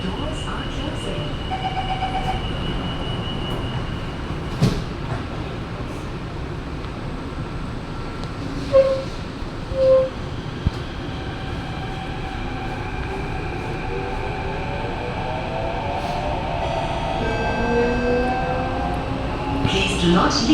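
A subway train at a station gives a loud, steady rumble with metallic squeals and rising and falling wheel tones, while a recorded voice makes announcements over it.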